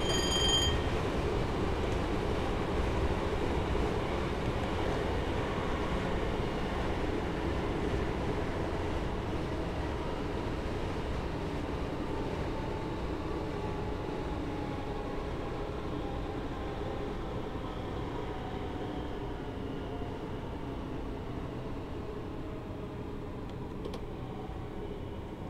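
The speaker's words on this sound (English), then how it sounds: "I'm going to apply the brakes for Brentwood Station as we approach this next signal." Train Simulator 2018 game audio of a train coasting and then braking into Brentwood station on the London Liverpool Street to Shenfield line: a steady, fairly quiet rolling rumble that fades slightly as the train slows.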